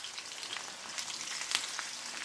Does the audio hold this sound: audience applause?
no